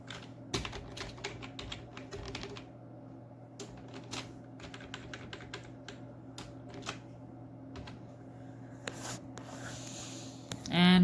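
Typing code on a computer keyboard, with close, quick bursts of key clicks separated by short pauses across the whole stretch.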